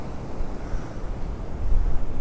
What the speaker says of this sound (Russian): а тут реально шторм. И красиво добивает аж наверх.